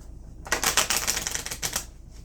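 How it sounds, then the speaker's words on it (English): A deck of cardstock oracle cards is riffle-shuffled up close, giving a quick crisp burst of rapid flicking clicks that lasts about a second and a half in an otherwise quiet room. "this cardstock is a really nice shuffle"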